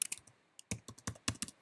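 Keys clatter on a computer keyboard in a quick, uneven burst of close, crisp taps, with a brief pause before a denser run of keystrokes and no voices.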